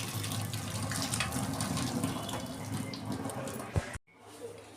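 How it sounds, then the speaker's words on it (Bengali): Water drained from spinach through a colander in a home kitchen makes a continuous, fairly loud splashing gush for about four seconds, ends with a knock, then drops to quiet with faint noises. "ফুটো বাটিতে জলটা ঝেড়ে নিচ্ছি।"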